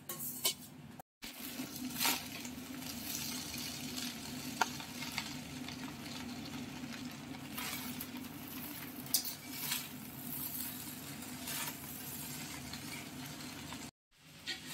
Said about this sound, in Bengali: গাজর আর রসুনটা একসঙ্গে ভেজে নেওয়া হচ্ছে